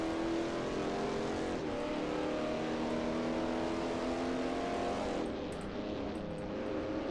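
Supercharged 1939 race car engine in the Assetto Corsa racing game, a strained, unhealthy-sounding drone with tonal whine that slowly falls in pitch, loud and continuous throughout.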